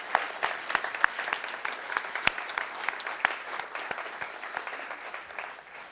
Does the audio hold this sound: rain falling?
no